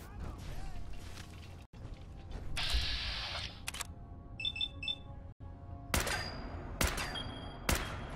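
Gunfire in the Fallout 4 Automatron DLC, sharp bursts and single shots cracking out amid mechanical clanks and creaks, several loud transients spread across the clip with a short electronic beeping pattern in the middle.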